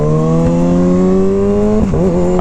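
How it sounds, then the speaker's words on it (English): Loud Kawasaki ZX-6R motorcycle riding along a main stretch, engine droning steadily up close with a brief dip and recovery near the end, no voices. "Alright, let's get out on the main stretch and really hear this thing."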